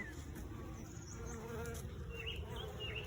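Dense, continuous buzzing of many honeybees inside an open hive after a split, close and steady throughout.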